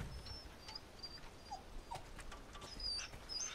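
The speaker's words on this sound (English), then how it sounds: "That's a big dog." A wolf in the Resident Evil 4 Remake video game lets out a few faint, thin whimpers and yips over a low background rumble, quiet and scattered, with no talking.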